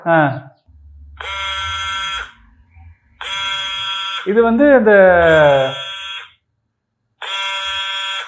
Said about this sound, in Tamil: செல்போன் உடைய vibrator mode. Buzzing of a mobile phone.